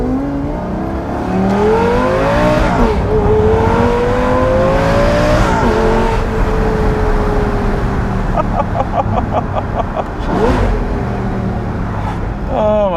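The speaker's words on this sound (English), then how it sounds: "now that we got this Klein in there, it makes these like pops that are just tremendous." A Lamborghini Gallardo Super G revs hard, its engine rising and falling through several loud sweeps with sharp exhaust pops and crackles near the end, while people talk over it.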